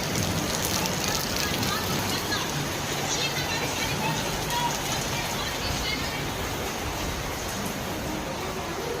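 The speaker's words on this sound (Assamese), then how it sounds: "এতিয়াও বৰষুণ দিয়ে আছে।" Steady rain falls continuously outside a hotel, a dense broadband hiss that holds at an even, loud level throughout with no pauses or breaks.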